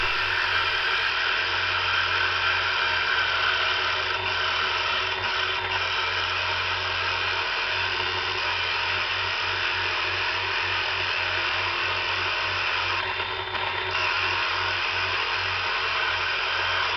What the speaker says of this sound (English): We're going to use the 1 7/8 Forstner bit. That'll cut the wide hole we need to just pop the speaker in.